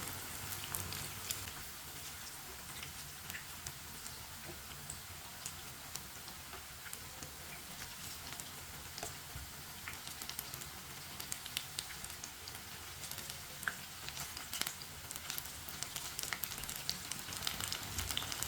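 Potato pakoras fry in hot oil, giving a steady, dense crackling sizzle that runs unbroken and fairly quiet throughout, with no talking.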